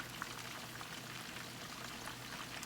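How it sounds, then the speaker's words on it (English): Chicken wings frying in hot oil, a steady, dense crackle and sizzle that holds at an even level throughout with no talk. "I'm gonna let it fry, guys, for like 5 minutes first."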